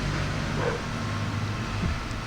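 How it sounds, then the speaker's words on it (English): A dog outdoors gives a couple of short, muffled barks, spaced apart over a constant low background rumble, fairly faint and with no talking. "he's barking."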